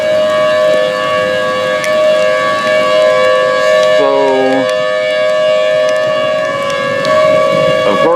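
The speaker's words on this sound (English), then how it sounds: "I didn't know before the siren started going off, it was just like, I thought maybe a tornado was already on the ground" A civil defense siren sounds a tornado warning over a small town, a loud sustained wailing tone that holds steady throughout, with a brief lower pulsing sound partway through and no speech.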